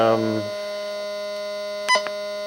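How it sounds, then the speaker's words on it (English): A metal detector's threshold hum: a steady electronic hum with a buzzy tone holds throughout, stepping down in pitch early on, with a brief higher blip near the end. "As you hear it go down, hear the hum. The hum's going away."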